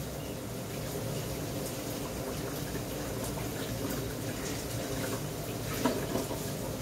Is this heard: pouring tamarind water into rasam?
yes